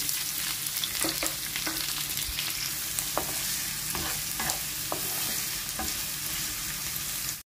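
Finely chopped onion frying in oil with mustard seeds and curry leaves for mirchi ka salan, a steady close sizzle broken by sharp clicks and pops of spatters and stirring.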